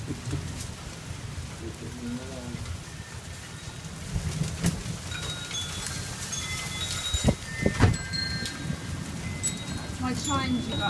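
Steady rain patters outside during a storm in Tulsa, with scattered drips and taps, a low rumble underneath, and a few faint wind-chime tones ringing in the background.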